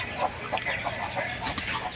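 A hen gives short, repeated clucks while chasing chicks away outdoors, heard close over steady background noise.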